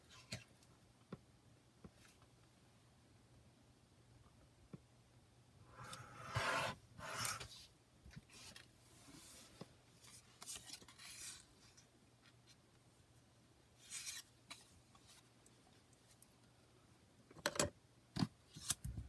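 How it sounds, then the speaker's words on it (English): A paper cutter slices paper for a tri-fold traveler's notebook journal, giving a few short, sharp swishing cuts around the middle and again near the end, with quiet rustling handling between them and no talk. "And put that in my paper cutter."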